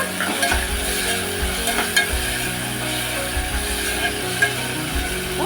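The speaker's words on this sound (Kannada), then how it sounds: "ಈಗ ಟೊಮೆಟೊ ಫ್ರೈ ಆಗ್ತಿದೆ" Tomatoes fry in a pan for dhaba-style dal, giving a continuous close sizzle with occasional spatula stirring scrapes and light clinks, and no talk over it.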